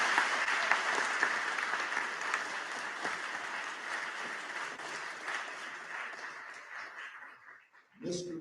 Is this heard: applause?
yes